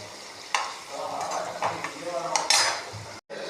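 Paneer fries lightly in a pan with a soft, steady sizzle, broken by several scrapes and clinks of a utensil stirring against the metal.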